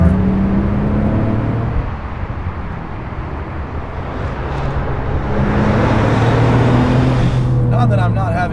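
A Porsche 997 GT2 RS with a manual gearbox and 600 horsepower drives along in a loud, continuous engine drone with shifting pitch, wind and road noise throughout.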